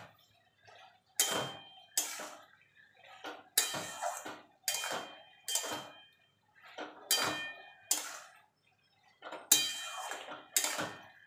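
A utensil stirs a ridge gourd and prawn curry in a pot, a run of distinct metallic scrapes and clanks in an uneven rhythm with short quiet gaps between strokes, close by and fairly soft.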